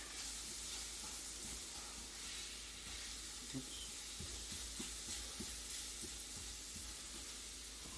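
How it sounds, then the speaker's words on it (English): Hamburger meat fries in a pan over turned-down heat, giving a steady, soft sizzling hiss with occasional light scraping taps as the meat is stirred and broken up. "I'm actually going to turn the heat down just a little bit. Smidge it. So the hamburger doesn't stick to the pan too much."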